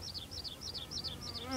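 A small bee buzzes right beside the ear outdoors in a clover-seeded bee sanctuary, a close, wavering whine rising and falling in quick repeated swoops over a faint low background.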